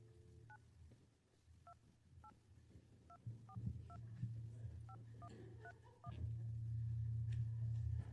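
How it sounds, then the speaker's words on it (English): Telephone keypad tones dialing out during a town council meeting to reach a commissioner, about fifteen short evenly spaced beeps over a low room rumble, fairly faint. "let's call Tim and have him on the phone also"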